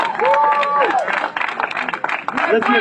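A crowd at a political endorsement event claps and cheers in a loud, sustained burst, with someone speaking over the applause.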